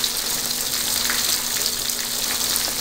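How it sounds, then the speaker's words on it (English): Fish fries in hot sunflower oil with a loud, steady sizzle and scattered crackles and pops, close and continuous. "The oil is frying the fish wonderfully."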